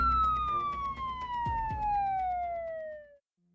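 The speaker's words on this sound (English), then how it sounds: "Sirens began piercing the night." A police siren pierces the night, sweeping downward in a long, wailing tone over rumbling traffic, loud and close, then cutting off.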